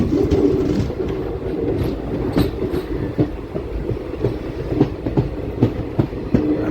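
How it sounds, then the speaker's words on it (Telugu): A passenger train rolls into Rajampet railway station, with a steady low rumble and rhythmic clickety-clack of wheels over rail joints, loud and close throughout with no talking. "వెళ్తుంది మన ట్రైన్ అలాగా స్టేషన్ లోపలికి"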